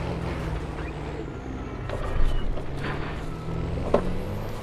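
A MAN TGS 6x6 truck built into a large camper drives along while shifting up into fifth gear. The engine drones low and steady inside the cab, with a couple of brief clunks and a short surge as the gear changes.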